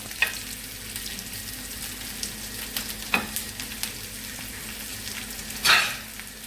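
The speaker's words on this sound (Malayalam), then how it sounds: "നമ്മൾ അരിഞ്ഞ് വെച്ചേക്കുന്ന സവാള എടുത്ത് ഇട്ട് കൊടുക്കേ അതേ സവാള ഇതിലേക്ക് നമുക്ക് ഇട്ട് കൊടുക്കാം" Chopped onions dropped into a hot frying pan while making soya chunks: a steady close sizzle with a few scattered clicks and scrapes, then a louder rush of frying near the end.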